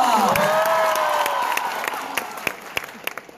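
A college festival audience applauding and cheering for performers Rohit Raut and Shridhar, a loud crowd roar with whoops that fades into scattered individual claps.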